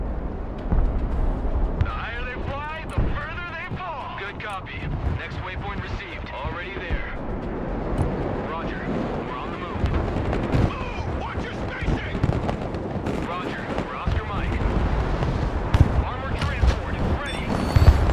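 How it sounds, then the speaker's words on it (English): Missiles explode and fly across a battlefield in the military strategy game Broken Arrow, a dense run of booms and blasts with constant rumbling, mixed under unit radio chatter throughout. "so many missiles flying everywhere. It's crazy."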